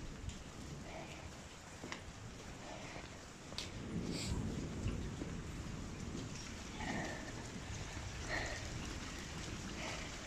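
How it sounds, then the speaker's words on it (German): Pure rainwater running down off a farmyard, a steady broadband wash of flowing and dripping water heard fairly close and continuous throughout, with faint murmuring voices in the background. "Das ist reines Regenwasser,"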